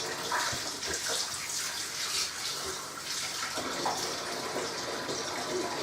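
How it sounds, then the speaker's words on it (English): Running water steadily pours over home brew beer equipment being rinsed, a continuous close gushing like a tap filling a tub, with no talk over it. "Now basically, all I'm doing is rinsing these."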